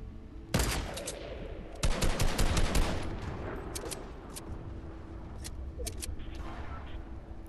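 Fortnite gunfire: a loud burst of rapid shots, then a second dense volley a second later, followed by scattered quieter shots and a steady background rumble.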